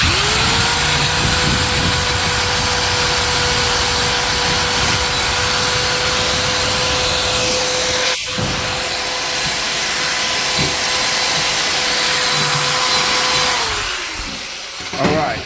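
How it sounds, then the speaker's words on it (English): A power drill fitted with a scrub brush whirs loudly and steadily, its motor tone holding under a scrubbing hiss against oil-stained cabinets before winding down near the end. "then we'll take the drill gun and let's see what happens this time."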